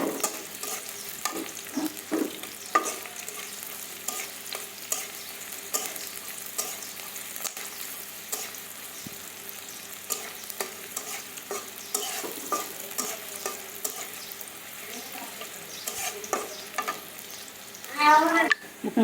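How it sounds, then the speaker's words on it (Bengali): Onion and garlic fry in oil in a wok, a steady close sizzle with constant stirring scrapes and clatters running throughout, growing a little louder near the end. "কড়াইতে আমি তেল, পেঁয়াজ, রসুন দিয়ে দিচ্ছি, একটু ভেজে নিব"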